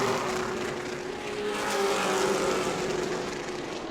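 Stock cars racing on the oval at New Smyrna late in a Hoosier Series event, a steady loud engine roar filling the whole stretch with a rising and falling drone as cars pass, no talk.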